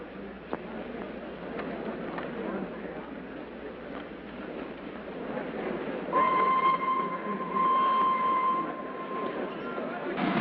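A steam-era passenger train rumbles steadily under voices in a 1936 film, and partway through a sustained whistle sounds twice.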